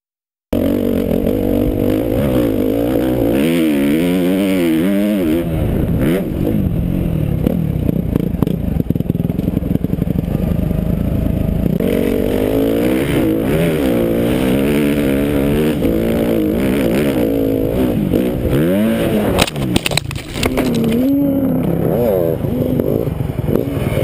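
A 2011 Suzuki RMZ 250F dirt bike engine revs loud and close, rising and falling in repeated throttle sweeps under a constant motor drone, with brief clattering bursts near the end.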